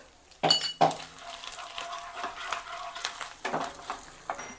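Ginger paste sautéing for pav bhaji, a soft frying hiss with scraping spatula strokes and a few sharp clinks of utensil against the pan, moderately close with no talk.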